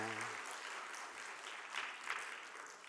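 Applause from a church congregation during a Sunday worship service, a steady wash of many hands clapping at moderate distance, with a brief low sustained tone fading at the start.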